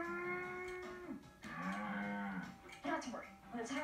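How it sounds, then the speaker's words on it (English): Cattle mooing loudly and close, with two long drawn-out lowing calls followed by shorter grunting moos, and no talk over them. "While still mooing like a cow."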